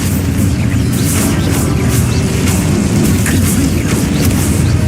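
Expulso spell explosion in the video game Hogwarts Legacy, a loud sustained rumbling boom with crackling debris over a continuous low roar.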